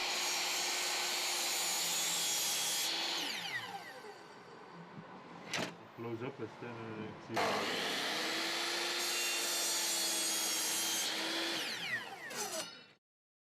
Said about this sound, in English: We cut the skirting boards in mitre in order to ensure a good connection in the corners.